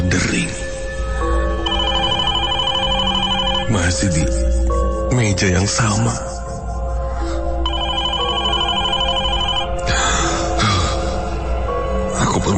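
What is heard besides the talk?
old telephone bell ringing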